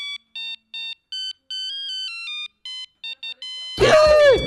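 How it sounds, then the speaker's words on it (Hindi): A phone rings with a repeating electronic melody of short bright tones in a quiet room, then a voice cuts in at the end. "किस वक्त किसका फोन है?"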